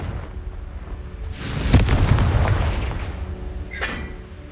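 A Confringo fire spell from Hogwarts Legacy bursts with a sudden loud whooshing blast that swells and rumbles for about two seconds, then fades, followed by a smaller crackling pop.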